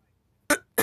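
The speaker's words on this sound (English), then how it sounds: "I just had to cough." Two short, sharp coughs from a person, close and loud, the second following quickly after the first in an otherwise quiet room.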